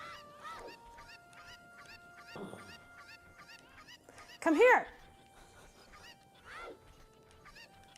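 Cuccos from The Legend of Zelda: Ocarina of Time cluck in a repeated run of short, high, bright game-sound squawks, with one louder flurry midway, while people talk and shout over the gameplay.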